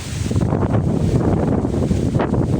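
Strong monsoon wind roars steadily, buffeting the microphone with a constant rushing noise and occasional gusts, with no voices.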